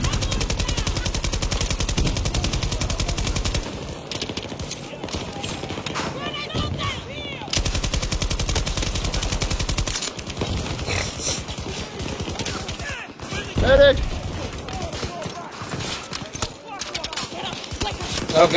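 Sustained bursts of light machine gun fire rattle almost nonstop in a Battlefield 2042 match, with brief pauses and scattered shots, while a player talks over the shooting.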